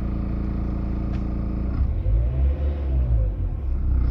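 A Renault Clio 3 with a 1.5 dCi diesel engine idling steadily, then rising into a louder rev with a deep rumble, heard close and without speech.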